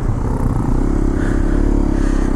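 A Hero Xpulse 210 motorcycle rides off-road, its engine giving a loud, steady low drone with rattling and clatter from the rough ground, heard close and alone with no talking.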